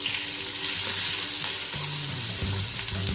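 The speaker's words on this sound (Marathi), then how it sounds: "कांदा छान असा लाल होईपर्यंत परतवू द्या" Chopped onion frying with curry leaves and mustard seeds in a pan for a dry potato dish, a steady close sizzle with faint stirring scrapes.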